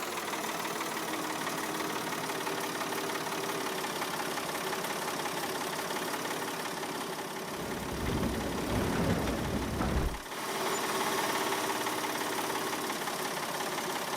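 A tractor engine idling in the Farming Simulator 22 video game, a continuous steady mechanical drone with a brief surge in low rumble partway through before settling back to an even idle, with no talking.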